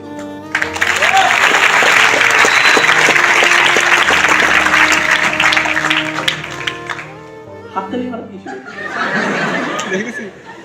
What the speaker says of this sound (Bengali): তুমি হাততালি মারছো